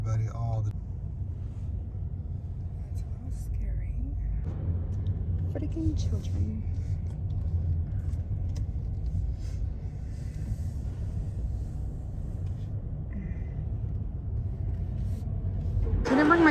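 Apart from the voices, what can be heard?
road traffic, cars driving in downtown San Antonio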